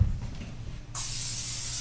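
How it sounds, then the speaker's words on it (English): A short, sharp hiss of an olive oil cooking spray bursting on after a quiet moment and holding steady, close up over a pan. "I'm using an olive oil spray."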